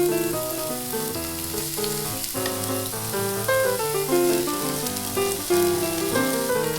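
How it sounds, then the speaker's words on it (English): Sliced onion and garlic sauté in oil in a pan with a faint, steady sizzling hiss. Louder melodic music plays over it the whole time. "Let's saute our onion."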